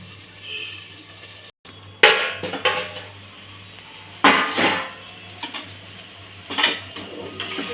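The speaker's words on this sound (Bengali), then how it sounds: "এটা ভালো করে নেড়ে চাপা দিয়ে দেবো" Vegetables are stirred in a pan, giving several bursts of metal utensil scraping and clinking against the cookware over a low steady hum, with quiet gaps between strokes and no talking.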